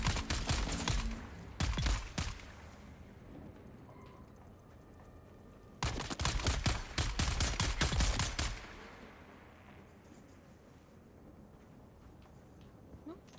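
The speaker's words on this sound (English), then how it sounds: "Don't mind me just shooting above their head." Rapid automatic gunfire in the video game Dune Awakening, two loud dense bursts of shots separated by quieter gaps, with a faint background hum between them.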